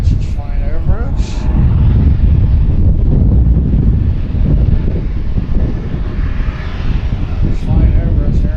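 An aircraft flies overhead near Harrisburg airport at night, a loud, broad engine roar that holds steady for several seconds, mixed with wind buffeting the microphone and faint voices.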